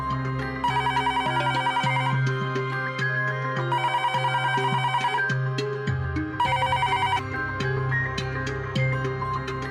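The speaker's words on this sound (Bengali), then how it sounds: "ফোন তুলবেন না।" A telephone rings in repeated electronic bursts, loud and close, with short gaps between the trills and a steady musical background underneath.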